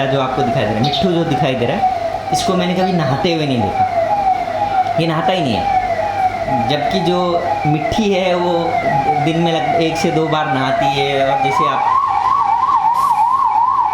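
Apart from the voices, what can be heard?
ambulance siren passing nearby in Maharashtra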